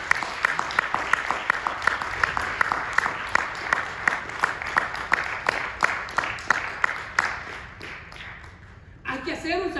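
A church congregation claps loudly and steadily in unison during a worship service, a dense run of sharp repeated claps that fades out near the end, where a voice begins speaking.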